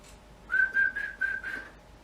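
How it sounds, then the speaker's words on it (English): A person whistles a single steady note in a few short pulses, close and clear, held as practice for forming a harmonica embouchure. "I can't whistle as good as I used to be able to do"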